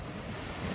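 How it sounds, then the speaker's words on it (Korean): Ocean waves wash steadily onto a shore at night near the Manila area, a broad, continuous rushing roar mixed with wind noise on the microphone, with no voices. "여기 파도 소리 들리세요?"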